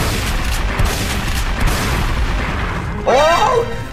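A shotgun loaded with slug rounds fires at a bull gator in Red Dead Redemption 2, one heavy boom standing out from a steady background of game ambience, followed by a brief rising creature cry near the end.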